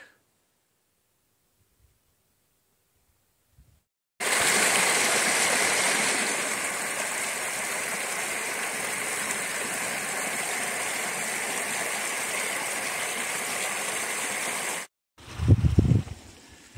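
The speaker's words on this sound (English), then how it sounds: "Nice, calm little creek called Killen Creek. Then it comes over there, kind of goes down, but very slow flow, nothing deep." Killen Creek, a calm, shallow, slow-flowing mountain creek in wilderness, gives a steady, even rushing wash that starts abruptly and holds unbroken for about ten seconds, followed by a brief rustle of handling noise.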